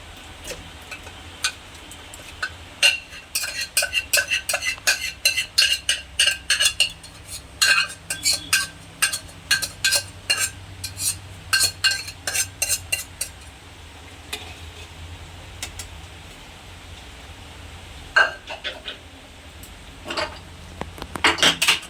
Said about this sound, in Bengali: মাংসগুলো এবার আমি পুনরায় কড়াইয়ে দিয়ে দিচ্ছি